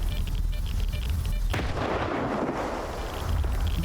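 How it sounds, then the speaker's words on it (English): Grenade blast in the video game S.T.A.L.K.E.R. 2: Heart of Chornobyl, a sudden heavy explosion breaking over low rumbling background, followed by a decaying rush of debris noise. "Didn't mean to throw a grenade."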